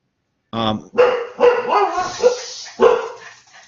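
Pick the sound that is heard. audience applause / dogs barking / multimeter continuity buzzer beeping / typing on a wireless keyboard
dogs barking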